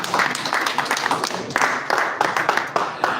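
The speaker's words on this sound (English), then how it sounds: "That is a round of applause from the majority of the Ugandans" Ugandan spectators at an Africa Ultimate Pool Championship match clap in a brief, lively burst, the sharp claps uneven and close under a commentator's voice.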